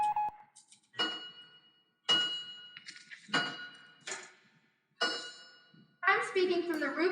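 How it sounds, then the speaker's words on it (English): Warning bells in a radio play about Martians approaching a city ring out in several separate, sharp, metallic strikes, each decaying into quiet before the next, with a voice joining at the end. "The bells you hear are ringing to warn the people to evacuate the city as Martians approach."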